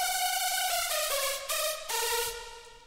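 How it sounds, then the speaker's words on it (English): A heavily detuned saw synth plays a hardstyle lead second layer in FL Studio, several bright sustained notes stepping down and back up with slightly opened release tails, alone and fairly quiet. "this is also heavily detuned saw sound"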